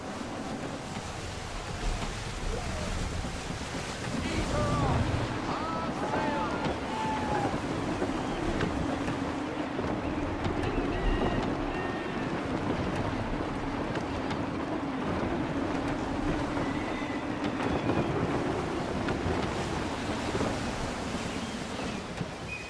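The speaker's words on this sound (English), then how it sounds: "Gusty winds can be difficult to manage." Steady gusting wind and ocean surf around a sailing ship under full sail at sea in Assassin's Creed 3, a constant rushing wash with occasional creaks and faint distant calls.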